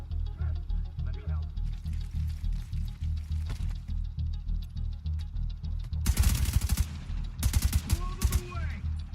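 An M4 rifle fires in The Division 2: after a quieter stretch of talking, loud sharp bursts of gunfire ring out in quick clusters near the end.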